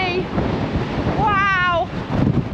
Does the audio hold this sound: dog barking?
no